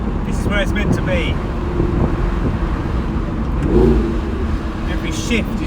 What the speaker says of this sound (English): Every shift is just, the noise, intoxicating.